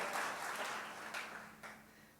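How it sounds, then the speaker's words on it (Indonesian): Brief burst of applause from a church congregation, many hands clapping at once in a fairly faint, roomy wash that tapers off toward the end. "boleh tepuk tangannya yang paling meriah buat Yesus Tuhan kita."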